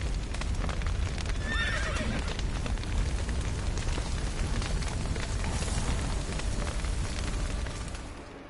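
In The Witcher video game, a horse whinnies once early on over a steady clip-clop of hooves that continues at close range before fading slightly at the end.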